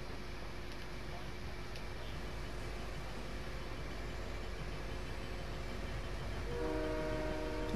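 A train horn sounds in the Fortnite video game, a sustained tonal blast rising near the end above a steady rolling rumble of the train, moderately close, with players talking.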